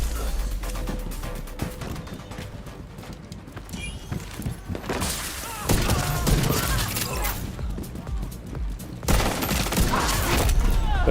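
Rapid bursts of gunfire in The Division 2, Battle for Brooklyn, crackling loudly and continuously with a few heavier volleys, mixed with game action noise and no talk.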